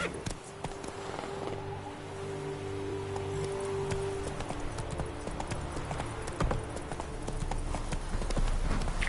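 Horse hooves clip-clop steadily at a walking-to-trot pace as Geralt rides his horse Roach in The Witcher 3 video game, with an ambient game soundtrack and low drones underneath.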